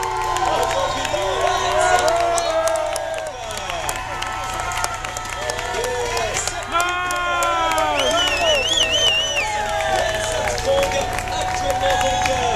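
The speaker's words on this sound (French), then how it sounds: "on peut lui réserver un véritable tonnerre d'applaudissements" Roadside crowd at a Tour de France stage start area cheering and applauding a rider, a steady dense roar of cheers, whistles and clapping that stays loud throughout.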